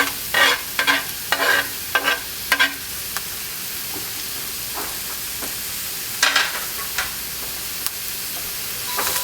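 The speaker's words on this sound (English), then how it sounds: "And we're going to saute these for just a little bit." Chopped yellow onions sauté in a pan with a steady background sizzle, punctuated by a cluster of quick stirring scrapes early on and another burst midway, close and fairly loud.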